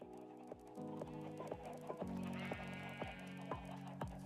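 Minecraft sheep bleat faintly at a distance over a steady in-game ambience, with regular soft thumps repeating throughout.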